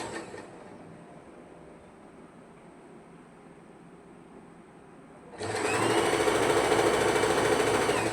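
A sewing machine stitches a churidar, a quiet low hum for about five seconds before the motor suddenly speeds up into a loud, fast, steady whirring rattle that runs to the end.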